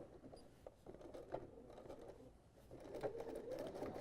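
A domestic sewing machine edge-stitches the zipper fly on a pair of jeans, with soft, rapid needle patter in short uneven bursts, quiet and close, and no talking.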